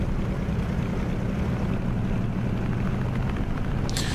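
A FlyingIron F6F Hellcat in a Microsoft flight simulator runs its engine up to 2000 RPM for a magneto check, giving a loud, steady, roaring propeller drone throughout, with a brief light click near the end.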